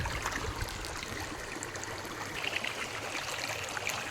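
The Jhutiya river flows steadily past a riverside picnic spot near Ramgarh, Nainital, giving a continuous, moderately faint rushing and trickling wash with no voices.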